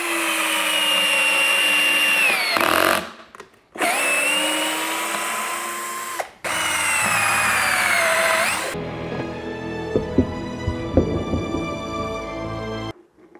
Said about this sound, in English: I generally wouldn't drive a screw just right into walnut like this, into hardwood